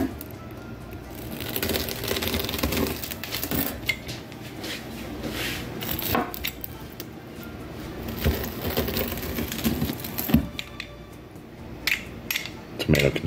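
Frozen margherita pizza in a cast iron pan being cut, with crisp crust crackling, scraping and clanking of a utensil against the pan in irregular bursts, close-up and without speech.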